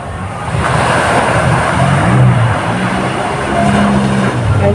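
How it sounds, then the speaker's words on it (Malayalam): A steady engine drone with rushing water, a jet ski cruising nearby on the sea at a Sri Lankan beach, continuous and fairly loud throughout. "water bike ഓടിച്ചുകൊണ്ടിരിക്കുകയാണ്"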